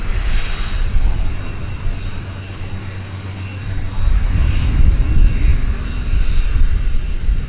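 An airplane touching down at Vancouver Airport, a broad low rumble of engine and rolling noise that swells louder after a brief lull, steady and fairly close with no talking.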